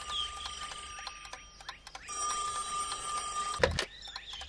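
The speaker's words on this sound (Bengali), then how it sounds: "ভগবান দা মনে হয় আবার ফোন করেছে।" A cartoon telephone rings with a bright electronic trill, steady and fairly loud, sounding alone for several seconds before a brief sharp burst near the end.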